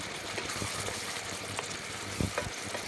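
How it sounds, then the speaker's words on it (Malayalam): Kolinchi pickle with jaggery is stirred in a pan, with a soft, steady frying hiss and occasional light scrapes of the spoon, quiet and close. "ഈ ശർക്കര ഇട്ട് കഴിഞ്ഞാൽ നല്ലോണം ഒന്ന് ഇളക്കണം"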